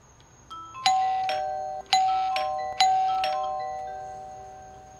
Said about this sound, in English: So now I just need to see if this doorbell still chimes with the resistor in place.